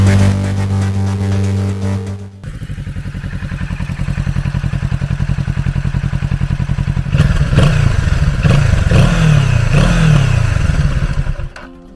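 A 2022 Kawasaki Z650 RS retro motorcycle engine revs loud and close, first a steady high idle, then a break and a rising, throbbing run with repeated sharp throttle blips near the end.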